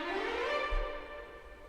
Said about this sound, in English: a nice little trill or run.